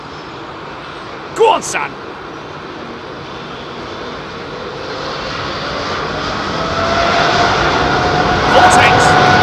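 Jet airliner engines at London Heathrow spool up for takeoff, a broad roar that swells steadily louder toward the end, with a short burst of nearby talk early on.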